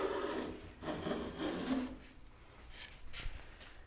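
Hand tool swipes shaping the edge of a wooden moulding: a series of soft, rasping strokes in an uneven rhythm, fairly quiet and close, with no talking.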